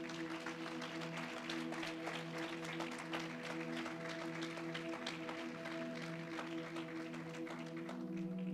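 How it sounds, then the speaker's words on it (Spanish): A church congregation claps during a sermon, a dense, continuous wash of applause with steady tonal hum or music underneath, filling the whole stretch at an even, moderate level. "Denle un aplauso al Señor."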